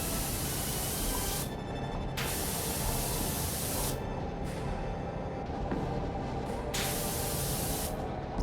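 A power washer sprays in PowerWash Simulator, a loud continuous hiss of water jetting against a surface, broken by several short pauses as the trigger releases and then squeezes again.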